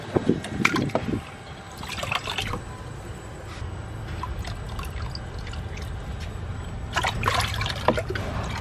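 A and B nutrient solution poured into a bucket for growing strawberries, a steady close trickle and splash of liquid lasting throughout.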